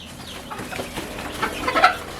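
Chickens cluck close by, with a few short, throaty calls that grow a little louder toward the end over a quiet farmyard background.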